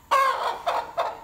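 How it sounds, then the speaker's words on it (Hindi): A pure Aseel hen clucks three times, close and clear, each call rising sharply and then trailing off, with short gaps between them and no talking. "गाइस ये वाली मुर्गी है जी, ये देखें प्योर असील है"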